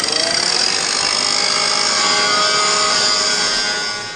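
A T-joint being cleaned before welding, likely with a power tool such as a grinder or wire brush: a loud, steady, harsh high-pitched whir with no talk, fading slightly at the end.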